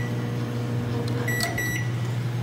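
A microwave oven in a freshly cleaned kitchen is switched on: a steady loud hum with a short bright beep partway through, and no talking.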